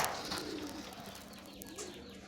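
Large Getibaj (ghonobaji) pigeons coo softly and continuously, a low throaty murmur at moderate distance with no voices over it.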